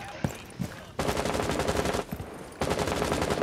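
Automatic gunfire in Rainbow Six Siege comes in two rapid bursts, each a steady rattle of shots lasting about a second, separated by a short lull with a few isolated thumps.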